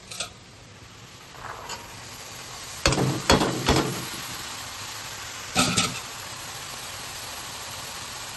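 Spices fry in a pan for a banana-flower and paneer curry, giving a soft continuous sizzle. A few short, sharp scraping clatters from stirring cut in, with no voices.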